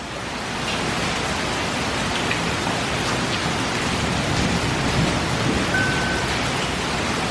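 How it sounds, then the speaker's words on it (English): Hail pelting down during a thunderstorm outdoors, with ice striking a hot tub cover and surroundings as a dense, steady, broadband patter that holds constant and fairly loud throughout, with no voices. "Oh, it's hailing."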